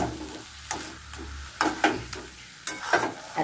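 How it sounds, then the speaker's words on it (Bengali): Bombay duck fish and potatoes fry in a pan as the water cooks off, with a soft sizzle under repeated loud scraping stirs that come in uneven bursts. "একবার নেড়ে দিয়ে যায়, আবার এসে দেখবো শুকিয়েছে কিনা।"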